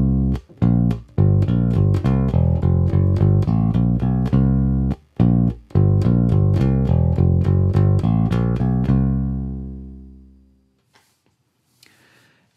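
A bass guitar played through its single center-mounted neck pickup alone, sounding a run of plucked notes with a deep, rounded tone, close and loud, then a long final note ringing out and fading to near silence.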